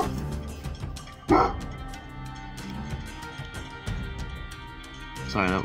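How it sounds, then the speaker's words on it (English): A dog barks loudly a few times close by, sharp bursts cutting over steady game music and background talk during a Marvel Snap card game. "Sorry, that was the dog."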